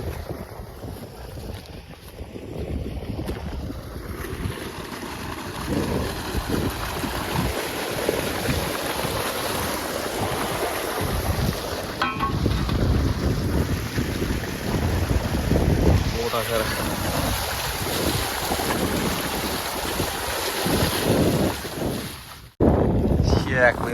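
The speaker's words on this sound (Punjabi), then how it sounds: "ਸੋਹਣੀ ਹਵਾ ਆ ਰਹੀ ਆ ਠੰਡੀ ਮਿੱਠੀ" A cool breeze gusts outdoors in a rural village, buffeting the microphone in a loud, continuous rumbling roar that swells and eases across the whole stretch, with someone talking now and then beneath it.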